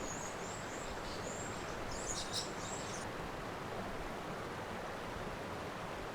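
Tulabi Falls pours in a steady, broad rushing wash of water, continuous and even throughout, heard from a short distance in the wilderness on a canoe trip.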